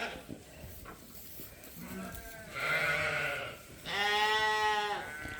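Freshly weaned Dorset ewe lambs on a sheep farm bleating, two loud drawn-out calls close by over faint farm background noise, with softer earlier bleats.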